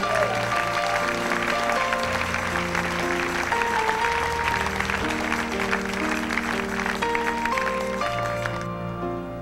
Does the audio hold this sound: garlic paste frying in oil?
no